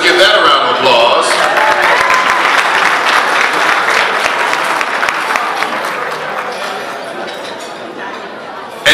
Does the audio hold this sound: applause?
yes